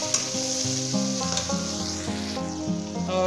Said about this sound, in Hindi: अभी हम इसके अंदर ऐड कर देंगे ये टमाटर जो हमने काट के रखे थे, ये ऐड कर देंगे और इसको मिक्स करेंगे अच्छे तरीके से